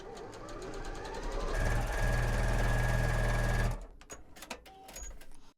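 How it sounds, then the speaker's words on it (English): Sewing machine stitching quilt block rows together, a steady fast mechanical whir with rapid needle rhythm lasting a few seconds, then stopping into quieter handling clicks. "I'm going to sew the rows together"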